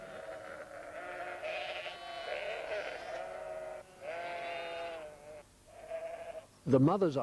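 Sheep bleating on a farm as a ewe calls for her hidden lamb, a series of loud, wavering bleats from several animals at close range, followed at the end by a sharper, higher cry.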